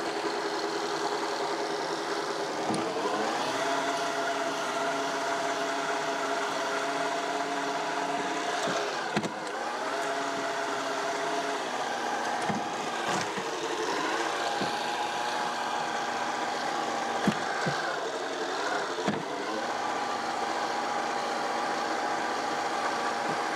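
A Toro eFlex lawn mower hums steadily, running close with an even droning tone and a few faint knocks and clicks over the length of the run.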